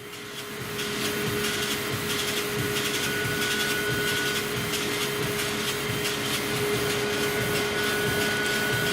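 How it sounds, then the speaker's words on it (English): A laser cutter runs steadily as its beam varies in power during a cut, a continuous mechanical hum with a faint hiss and a steady tonal whine, loud and unbroken throughout with no talk. "if you listen, you can actually hear the beam changing its power"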